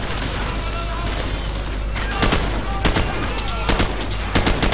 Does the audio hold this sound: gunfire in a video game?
yes